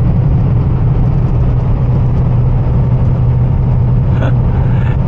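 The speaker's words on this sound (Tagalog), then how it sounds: "Dito guys, kahit motor may trailer." A motorcycle towing a trailer rolls past on a street, its engine a steady mid-low rumble under constant road and traffic noise, close and loud throughout.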